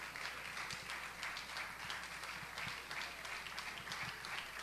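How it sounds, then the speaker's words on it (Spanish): Applause from a church congregation at a women's conference comes through faint and distant, a steady, even wash of many hands clapping over a low hum. "Más fuerte ese aplauso"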